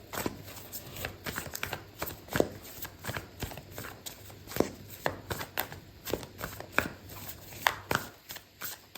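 Oracle cards being shuffled in quick, irregular bursts of crisp riffling and slapping, close and clear, with no talking.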